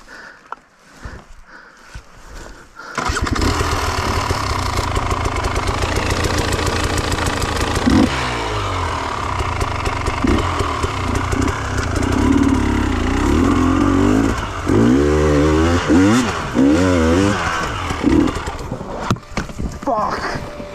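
A KTM TPI two-stroke motorcycle engine starts after a quiet opening, then idles loudly and is revved several times in rising and falling sweeps. A voice speaks over the engine noise at times.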